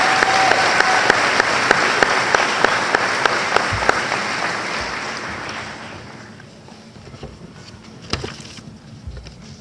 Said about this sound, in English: one more round of applause for Kelly and Quinn